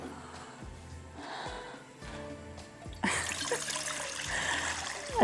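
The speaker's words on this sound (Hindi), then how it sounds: "इसके अंदर डालते हैं पानी, थोड़ा सा नमक।" Water is poured into a pot for steamed butter rice, a steady trickling flow that swells louder and splashier partway through, near and continuous.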